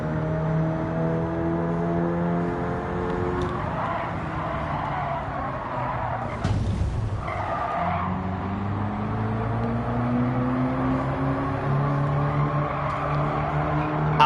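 A four-wheel-drive car's engine climbs and drops through gears at Kyoto Driving Park in Gran Turismo 7, with rising revs, a sudden harsh impact-like burst midway, then renewed acceleration, loud and close.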